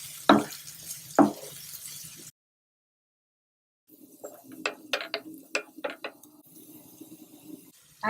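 Cumin seeds and finely chopped onions hit hot oil in a pan, with a few sharp sizzling crackles, a pause, then a run of bright pops and spits over a steady frying hiss.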